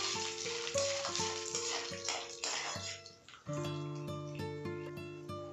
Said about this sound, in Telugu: అప్పుడు జీడిపప్పులు కూడా వేసి వేయించుకోండి.